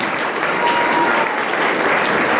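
Audience applause at a cycling presentation event in Boyacá, Colombia: steady, dense clapping from a crowd, loud and continuous throughout with no pauses.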